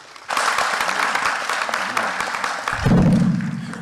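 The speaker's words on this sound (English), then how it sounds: "Y'all give him a round of applause." Audience applause at a school program, a dense burst of clapping that starts suddenly and carries on steadily, with a low thump near the end.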